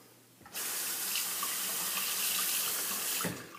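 Bathroom faucet running steadily into a sink to rinse lather from a Shavecraft 102 safety razor, a close, constant hiss of water for about three seconds that starts and stops abruptly.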